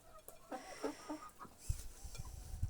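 Young chickens clucking softly during a morning feeding, a few short calls close by, with faint thumps and rustling in a quiet setting.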